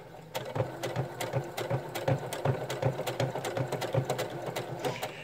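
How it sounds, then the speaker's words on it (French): A sewing machine stitches a mini tote bag with French seams in a fast, steady mechanical run of clicking needle strokes, close and loud, with no talking. "pour coudre droit, c'est de ne pas regarder son aiguille"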